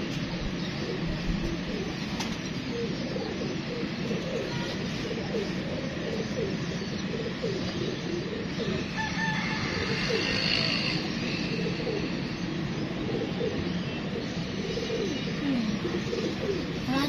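Pigeons cooing continuously and close by during a rooftop pigeon release, a dense, steady murmur of overlapping coos with faint wing flutter and distant voices in the background.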